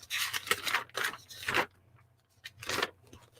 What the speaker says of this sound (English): Sorry about the paper noise